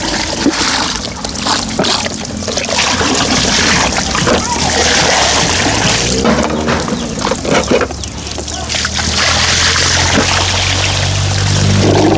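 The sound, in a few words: water splashing during a bath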